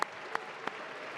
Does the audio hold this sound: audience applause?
yes